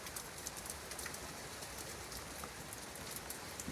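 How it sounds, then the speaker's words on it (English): Heavy rain with hail pelting down outdoors in squally British weather, a dense, steady hiss of drops striking surfaces, close and continuous with no voices. "Absolutely tipping it down."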